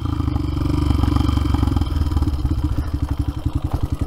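An XR dirt bike on a trail, lugging in third gear: a low, loud, chugging engine note with distinct firing pulses that slow and grow more separated toward the end, with no voices over it.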